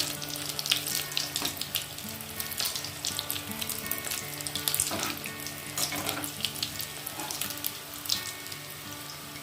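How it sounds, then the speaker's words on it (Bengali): Fish fingers fry in hot oil with a dense, loud, continuous crackling sizzle full of rapid pops, steady from start to finish without talk. "এবার এটাকে ব্রাউন কালার করে ভেজে নেব।"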